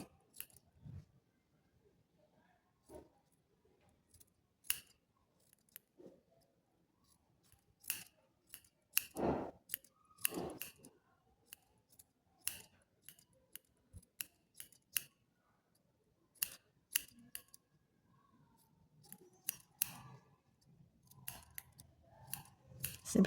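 Scissors trimming a yarn pompom, a series of close, quiet snips in irregular bursts with short pauses between cuts, some quick clusters of several snips, in an otherwise quiet room.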